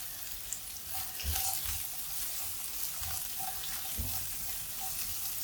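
Onions and small shallots softening in a pan of pumpkin curry, with a steady low sizzle throughout and a few soft scraping stirs, no talking.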